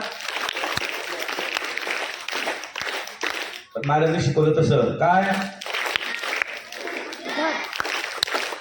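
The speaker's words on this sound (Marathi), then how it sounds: "एकदा एलो हाऊस साठी आपण टाळ्या वाजवतो" Schoolchildren clapping together for Yellow House at a Children's Day school assembly, a loud, brief, rhythmic burst of applause between stretches of an adult talking.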